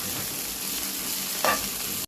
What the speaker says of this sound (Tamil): இந்த நெய்யில் நம்ம அதை வாஷ் பண்ணி வச்சுருக்கிற அவலை போட்டு நல்லா வறுத்து விடணும்